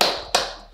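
Three sharp hand claps, close and loud, spaced a little under half a second apart, each ringing briefly.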